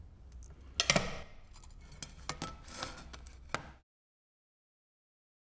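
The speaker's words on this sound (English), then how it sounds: "Notice the louder noise when breaking this glass." Scored 6 mm thick glass snapped open with pliers: one sharp, close crack followed by a few smaller ticks and clicks, then silence.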